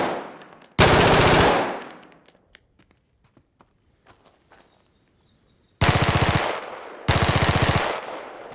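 Loud video game weapon fire in two bursts, each trailing into a messy reverberant tail that rings through the surrounding area, with quiet footsteps and small clicks in the gap between the bursts.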